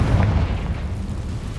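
A fiery Confringo spell explosion in the video game Hogwarts Legacy: a single deep booming blast that rolls out into a decaying rumble, loud and close.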